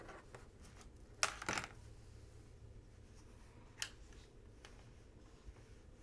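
Scissors snip loose threads on a quilt block, a few quick close metallic clips in a quiet room, one double cut followed by lighter snips.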